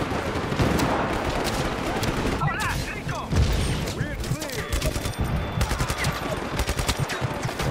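Gunfire in the video game Just Cause: dense rattling bursts of shots and automatic fire, loud and continuous, with a voice talking over it at times.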